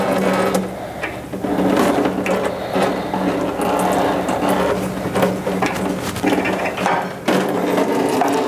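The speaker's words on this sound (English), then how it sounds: "you start by loosening this upper bolt and then completely removing the one down here" A wrench ratchets as bolts are loosened and removed on a Dake 5 Series press, giving a steady run of close mechanical clicks and metallic clatter that is loud throughout with a few brief pauses.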